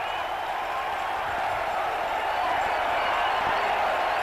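Cricket crowd roaring after a Viv Richards shot, a steady broad wash of cheering with scattered clapping, continuous and fairly loud throughout.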